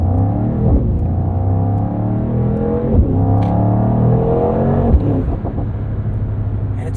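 A 2024 Mercedes-AMG GT 63 coupe accelerates on moderate throttle, its engine note rising through the revs and dropping abruptly at quick upshifts, a loud, continuous rumble heard from inside.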